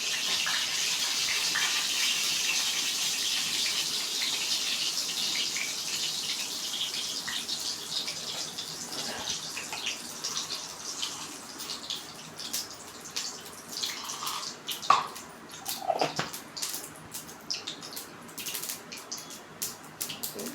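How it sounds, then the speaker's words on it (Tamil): Mustard seeds splutter in hot oil in a kadai on a stove, a steady sizzling hiss that breaks into scattered small pops and crackles as it goes on. No one speaks. "கடுகு நல்லா புரிஞ்சிடுச்சு"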